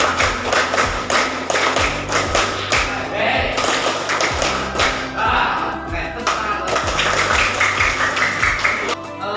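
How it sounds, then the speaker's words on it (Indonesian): A classroom of students claps in unison patterns of one, two and three beats, sharp group claps repeating in rhythmic bursts with a teacher's voice between them. "Tepuk 1, 2, 3."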